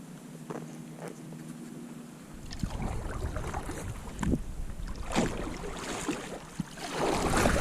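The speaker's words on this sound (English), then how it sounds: "So it paddles well, accelerates pretty easily" Pungo 120 kayak being paddled on a Florida river, with soft rhythmic paddle strokes and water splashes repeating every second or so, close by, over light wind noise and no speech.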